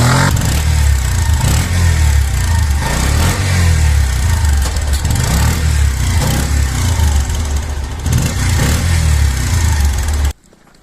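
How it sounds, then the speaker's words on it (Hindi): A 2025 Bajaj CT 125X motorcycle engine runs with a steady, loud, close exhaust note that varies slightly in pitch, then cuts off abruptly near the end. "अब मैंने गाड़ी स्टार्ट करके एग्जॉस्ट नोट सुना"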